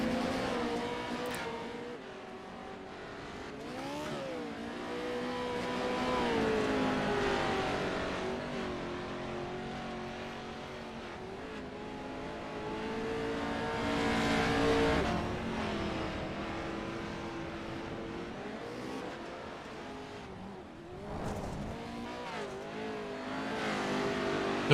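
Several Pro 2 Lite off-road race trucks circle a track on warm-up laps, their engines rising and falling in long sweeping passes, loud and continuous with revving surges.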